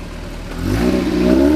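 A 1975 Chevrolet Cosworth Vega's 2-liter four-cylinder engine with a single exhaust revs up close by, its low rumble climbing into a rising whine as the throttle opens, loud and alone.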